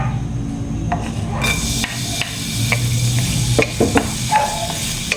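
Chopped garlic sautés in a pan for a chicken dish with tomato paste, a steady low sizzle running throughout, broken by scattered utensil scrapes and clicks against the pan.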